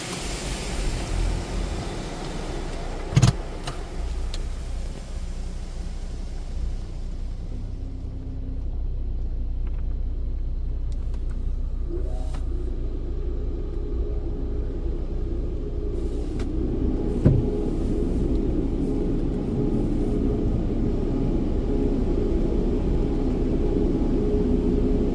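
A Mark VII Choicewash XT car wash at a Chevron station running its spot-free rinse final pass, a steady low rumble and hiss of machinery and spraying water with a couple of sharp knocks.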